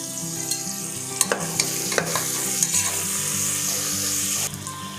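Green chilies fry in ghee in a pan for ghee rice, giving a steady close sizzle with occasional sharp pops and stirring scrapes, alone without talk.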